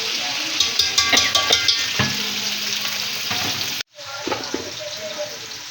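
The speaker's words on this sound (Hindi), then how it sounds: "तो अब एक पतीले में हमने जो है ऑयल डाल दिया, साथ जो है तकरीबन 1 किलो हमारा प्याज है।" About a kilo of onions frying in oil in a cooking pot, a loud, steady sizzle with stirring scrapes that cuts out abruptly partway, then resumes more softly.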